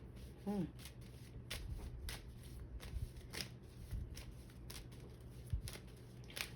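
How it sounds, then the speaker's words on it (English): Rapid riffling of playing cards being shuffled, a series of crisp fluttering bursts repeating across the clip with faint background noise. "I like to shuffle cards and just do the free fall method for me."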